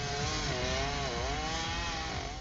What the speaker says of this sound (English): Behind me, you might be able to hear the whirring of the chainsaws.